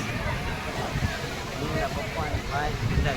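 Sea waves at the Somnath shore wash in as a steady, rough roar, blended with wind buffeting the microphone and the murmur of distant crowd voices throughout.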